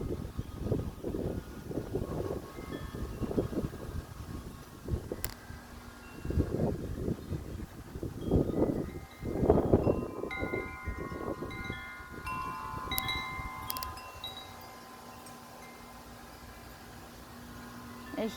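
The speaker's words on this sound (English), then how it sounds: "There's so much wind." Strong gusts of wind on a windy day buffet the microphone in rumbling surges, rising and falling several times, with faint wind chimes tinkling in the background as the gusts die down.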